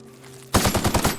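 Automatic gunfire erupts in The Outer Worlds, a sudden loud rapid burst of about eight close shots following a quiet, humming lead-in.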